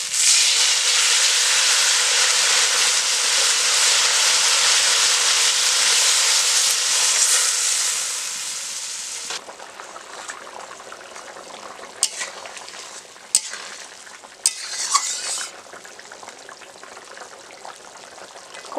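Loud, steady sizzling from a frying pan of mrigal fish curry with raw banana, potato and papaya eases into a quieter simmer, broken by a few sharp clinks of a utensil against the pot.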